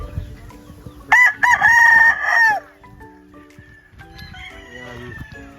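A rooster crows loudly once, a long strained call rising over a background of early bird chickens clucking and shuffling on a farm of banded bullstags and pullets, with fainter fowl calls following.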